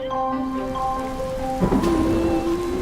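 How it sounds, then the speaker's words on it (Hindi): Rain patters steadily on a roof in the high tea-garden hills of Kerala, a hiss of drops that thickens partway through while a sustained tone hums in the background; no voices. "बारिश हो रही है।"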